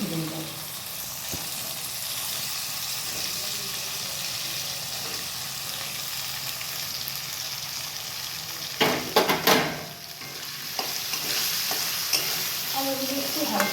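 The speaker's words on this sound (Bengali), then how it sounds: "আলুগুলো আমি ভেজে নেব। হালকা করে আলুগুলো ভেজে নেবে" Diced potatoes fry in hot oil in a wok with a constant, close sizzle, interrupted around the middle by a short clatter of stirring against the pan.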